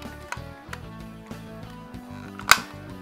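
Dyson V11 stand cover lock clicking shut on the official docking stand, heard as one crisp, close snap after a few softer handling taps.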